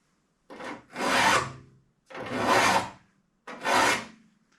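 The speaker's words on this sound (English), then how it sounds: "I'm just filing till that shiny spot disappears" A hand file rasps across the teeth of a two-man crosscut saw, levelling each tooth until the shiny spot is gone. Three separate, close, gritty strokes come with short silent gaps between them.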